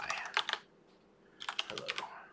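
Two quick bursts of close key presses come from a computer keyboard while code is typed, separated by a short pause, with no talk.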